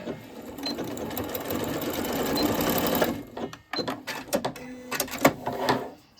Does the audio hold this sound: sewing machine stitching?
yes